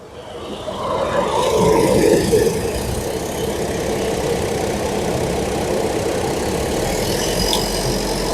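A Ford car engine idles steadily with its low-speed radiator cooling fan running, a constant mid-level hum and whir at close range with no sharp changes.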